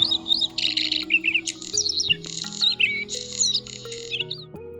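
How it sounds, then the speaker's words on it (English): A bluethroat sings in North Cyprus, a varied run of quick chirps and warbles, close and lively over quiet background music. "Blue throat is another bird that loves singing."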